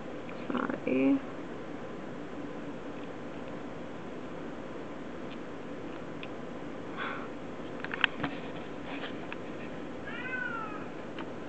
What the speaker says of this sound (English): That is my cat crying in the background.